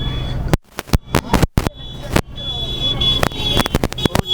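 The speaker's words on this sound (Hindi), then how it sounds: "और हम है कि यहाँ पे ट्रैफिक में फंसे हैं।" Car traffic jam on a New Year's night in Surat, with loud, choppy engine rumble, repeated horn blasts and sharp bursts of noise close by, while someone talks over it.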